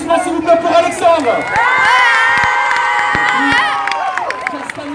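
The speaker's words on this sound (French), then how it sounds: "un tonnerre d'applaudissements s'il vous plaît pour Alexandre." An audience at a film preview screening in Brignais near Lyon bursts into loud cheering, whoops and shouting with clapping beneath, a sustained roar of voices up close that eases off at the end.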